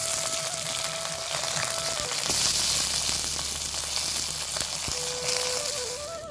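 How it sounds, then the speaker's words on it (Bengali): Eggplant is added to mustard oil with fried chopped onion, producing a steady sizzling fry with a brief surge partway through and faint stirring, without talk. "ভাজা হয়ে গেছে, দিয়ে দিব বেগুন।"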